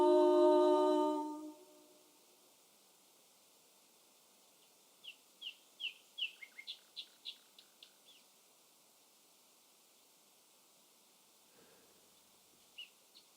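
Nightingales sing outdoors in a series of short, bright, rapid phrases, fairly distant, alone against quiet ambience after a brief burst of louder sound at the start.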